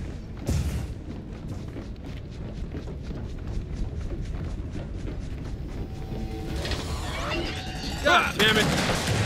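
Sniper gunfire in the video game Gears of War 4, a steady string of rapid cracking shots over a dense battle rumble, then clattering impacts and heavier blasts near the end.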